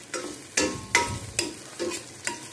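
Onion and garlic sauté in a hot pan, giving a continuous sizzle. About six rhythmic stirring strokes sound close and clear, one after another.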